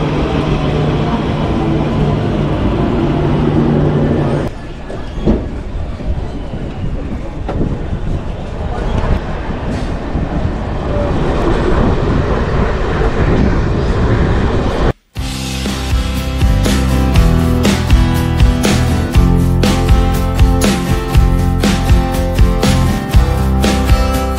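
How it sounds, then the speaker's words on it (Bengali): The Bardhaman–Jhajha MEMU train runs in at a station, a long, loud rumble with broadband rail noise that shifts abruptly midway into a harsher rattling clatter. "আর এই হচ্ছে আমার মেমু ট্রেন"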